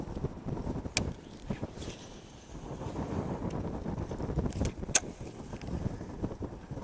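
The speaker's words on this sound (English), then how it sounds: "Do you guys like wind when you fish?" Steady wind buffets the microphone outdoors on a fishing boat, a low, rough rumble that rises and falls in gusts throughout, with a few brief knocks and no talking.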